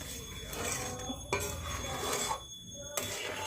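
A utensil scrapes and stirs boiling milk around the inside of a large metal wok in slow strokes, with occasional soft clinks, heard close by.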